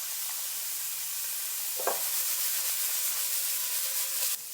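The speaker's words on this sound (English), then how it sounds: "Onions in. Okay, get these onions kind of sweat it out." Onions and ginger strips sizzle steadily in a hot pan, a continuous bright frying hiss with a brief stirring clatter midway, close and fairly loud, no voices.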